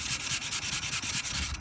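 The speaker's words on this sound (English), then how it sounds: "sanding and sanding and sanding and sanding and sanding." Squadron fast dry putty being sanded by hand, a close rhythmic rasping of rapid back-and-forth strokes, steady and unbroken with no voices.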